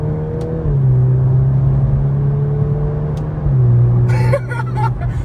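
Volkswagen Golf R performance hatchback engine in race mode, idling with a loud, steady rumble close by, swelling in short revs and settling back, with a few faint clicks near the end.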